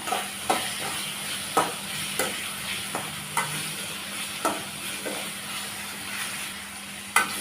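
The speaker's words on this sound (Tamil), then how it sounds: "ஒரு அஞ்சு வரமிளகாய் ஒரு கொத்து கருவேப்பிலை சேர்த்து எல்லாத்தையும் நல்லா வதக்கி விட்டுறலாம்" Dried red chillies and curry leaves sautéing in a pan, giving a constant soft sizzle broken by a series of regular spatula knocks and scrapes about every half second to second, close by, with no voices.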